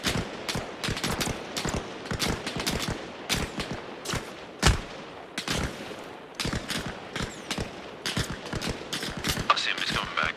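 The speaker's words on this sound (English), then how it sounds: "These AI are shooting at something for sure" AI soldiers' gunfire in the video game Arma Reforger, rapid repeated bursts of shots that continue steadily throughout, fairly loud and sharp, with voices talking over parts of it.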